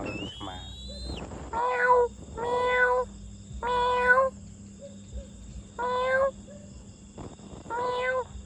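A kitten meows repeatedly, about six drawn-out, fairly loud cries spaced roughly a second apart, close by, over a faint steady background hum.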